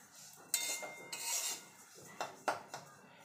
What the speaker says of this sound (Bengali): এবার তিলটাকে আমি ভেজে নেব